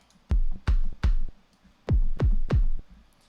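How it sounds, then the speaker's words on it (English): Six punchy electronic kick drum hits from a sampler, in two groups of three with a pause between, each a deep boomy thump with a sharp click at the start. "So the kick sounds like this."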